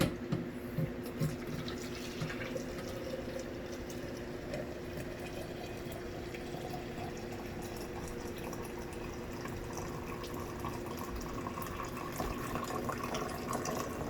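Steady stream of hot water pouring continuously into a coffee filter, close up, a smooth even splash with a low hum beneath it and no talking.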